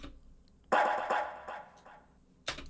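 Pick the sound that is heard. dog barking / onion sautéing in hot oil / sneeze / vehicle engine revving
dog barking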